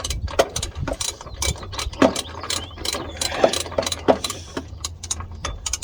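A hand ratchet clicks in quick bursts while snugging body lift bolts on a Chevy Express van during a 1-inch body lift install, the ratcheting close and repeated over a low background hum.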